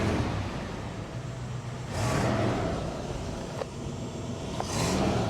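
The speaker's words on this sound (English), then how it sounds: "rev the engine for me, sir" A 1967 Ford Ranch Wagon station wagon's engine idles with a steady rumble, then swells twice in quick revs, heard from nearby outdoors.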